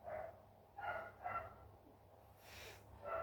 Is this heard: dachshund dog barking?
yes